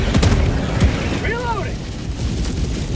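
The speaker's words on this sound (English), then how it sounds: "Requesting orbital." Orbital strike explosions land in the video game Helldivers 2 during a bug fight in a mega city under acid rain, heavy booms at the start followed by rumble, with a short voice line partway through.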